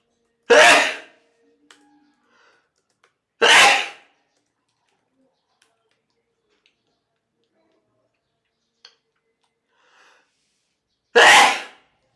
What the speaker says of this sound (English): I'm sorry, I sneeze very loudly.